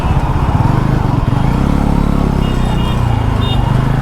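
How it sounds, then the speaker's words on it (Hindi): Dense motorcycle and car traffic on a busy road near a flyover in Peeragarhi, Delhi, with a steady roar of engines close around the rider. "गाइस यहाँ भी बहुत ट्रैफिक हो रहा है।"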